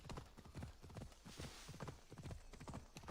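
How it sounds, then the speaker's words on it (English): A horse gallops in Assassin's Creed Odyssey with rapid, steady clip-clop hoofbeats, close and continuous, plus a brief neigh, all fairly quiet. "Phobos a good horsey, yes."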